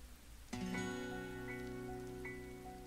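Rain falls in the video game COME as a faint, even hiss beneath sustained piano-like chords that ring out and slowly fade.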